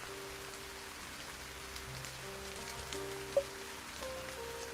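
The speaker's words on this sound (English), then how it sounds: "the pattering sound of the rain" Rain pattering steadily on a surface in the video game Tears of Themis, soft continuous drops with a faint tonal drone beneath and one brief sharp tick near the end.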